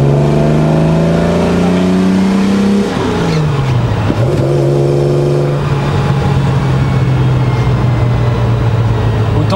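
A car engine revs loudly and climbs in pitch like a race car, drops back briefly, then holds a steady, strong drone close by.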